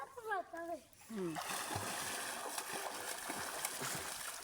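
A child learning to swim splashes in open water, giving a steady churn of splashing that follows brief voices calling out at the start, fairly close and continuous.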